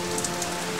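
Cold rain falls outside in an animated cartoon scene, an even, continuous hiss with a faint steady hum beneath, brief and without voices.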